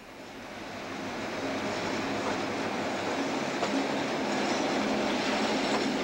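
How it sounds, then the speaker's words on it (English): An Algoma Central Railway train rolls along the tracks with a steady, loud rumble and faint clatter that builds in the first second and then holds evenly, with no voices. "2 miles south of here, the train crosses the Montreal River Bridge"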